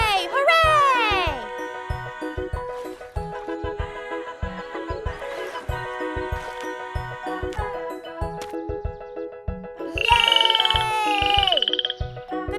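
Cartoon frog croaks in a bright kids' animation, with short repeated low croaks in a steady rhythm under cheerful music and tinkling tones, while a high, excited voice chatters at the start and again near the end.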